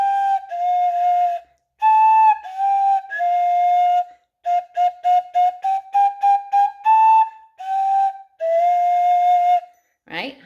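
A flute plays a simple, halting tune of short repeated notes and phrases, clear and close, ending with a brief breathy sound.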